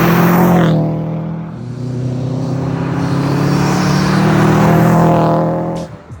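A Subaru engine with an aftermarket downpipe drones with a deep, raspy exhaust note that holds steady for several seconds, then cuts off abruptly near the end.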